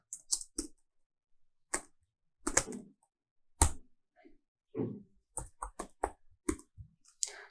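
Computer keys are tapped in short irregular bursts of crisp clicks with quiet gaps between them, close up and fairly soft.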